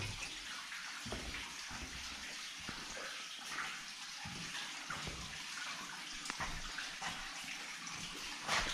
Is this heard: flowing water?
yes